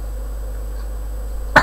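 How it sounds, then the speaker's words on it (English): A single short cough from a person recovering from an injection, abrupt and close near the end after a quiet stretch with low background hum. "I doubt the cough helps."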